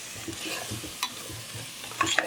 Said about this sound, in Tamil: இல்லை அடி பிடிக்காமல் கிளறுங்க